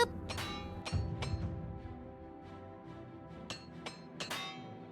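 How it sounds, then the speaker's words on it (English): Metallic hammer strikes as a repair hammer mends broken armor in the video game Oblivion, several separate ringing taps spaced irregularly, with a soft low rumble underneath and no talking. "Yes, I do have repair hammers."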